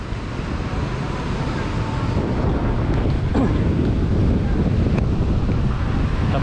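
Wind buffets the microphone over rolling surf at Kuta Beach on a Sunday morning, a constant loud roar of waves and gusts with no break.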